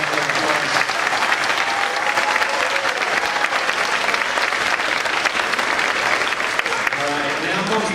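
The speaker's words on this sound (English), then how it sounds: "Let's give the entire 2015 Kensington Elementary D.A.R.E School Class one more round of applause" An audience at the 2015 Kensington Elementary D.A.R.E. graduation applauds the graduating class, with steady, loud, dense clapping and some crowd noise sustained throughout.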